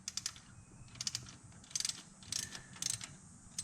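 Quiet ratchet wrench clicking while loosening a spark plug on a Foxbody Mustang, with short clusters of small metallic ticks coming in uneven bursts at close range.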